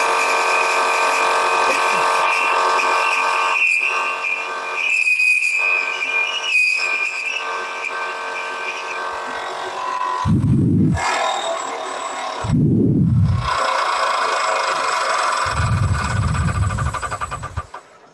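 A quarter-inch tool cuts end grain on a wooden yarn bowl, a steady whirring and buzzing drone with short breaks, close and fairly loud, with brief low bursts between passes.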